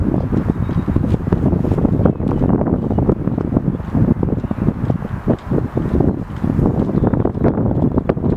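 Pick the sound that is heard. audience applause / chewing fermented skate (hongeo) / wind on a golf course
wind on a golf course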